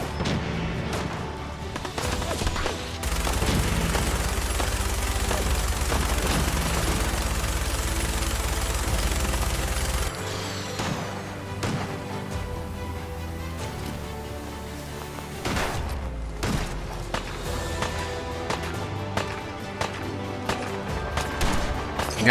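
A minigun fires in a video game, a dense, continuous roar of rapid shots lasting several seconds, followed by quieter bursts of game sound and clatter.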